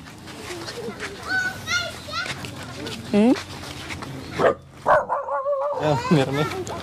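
A puppy barks in short, high yips close by, mixed with children's voices and chatter around it.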